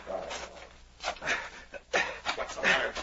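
A wolf dog panting hard in an old-time radio drama set in the Yukon, rapid rhythmic breaths close and loud, rising and falling over about three seconds.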